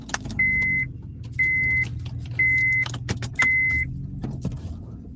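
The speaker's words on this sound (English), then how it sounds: "I was supposed to run this car" A car sits idling with a low steady engine hum while electric windows whir up and down four times in an even rhythm, and a few keys or small clicks can be heard between them.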